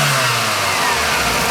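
A 2001 Toyota Corolla engine revs loudly and steadily up close during a smog and exhaust-system check, a thick continuous roar with no talk over it.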